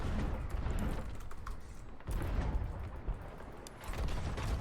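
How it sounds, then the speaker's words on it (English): A sandbag cannon fires in a pirate-ship video game match, with muffled booms and rumbling blasts rolling in two or three bursts amid ongoing battle noise, at moderate distance. "I just heard a sandbag cannon"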